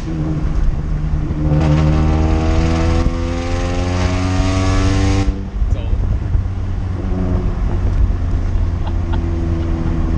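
A supercharged Scion car engine revs hard with a rising, buzzing supercharger whine, then drops to a rough idle with crackles as the exhaust shoots flames; people talk over it.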